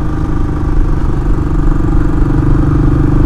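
A Royal Enfield Classic 500 single-cylinder engine labours up a mountain hill in third gear, a loud, close, steady thumping drone with a throbbing low pulse and no speech.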